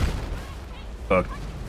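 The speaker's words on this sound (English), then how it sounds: "You blew up my C4 and blew up the vehicle" A blast from C4 destroying a vehicle in Battlefield 6 lands as one brief, sharp, loud burst about two thirds of the way in, over steady game ambience and low rumble.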